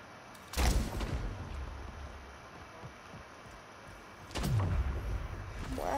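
Gunfire in the Splitgate shooter game: two heavy booming shots, well apart, each fading into a rumbling tail over a low ambient hum, with no voices.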